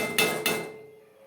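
Moong and masoor dal, boiled in a pressure cooker, being stirred in a pot: two sharp metallic knocks of a spoon against the pot, close and loud, then a fading ring.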